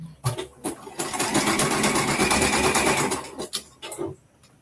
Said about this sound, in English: we're going to drop the needle, start back stitch, and then we're going to bring it home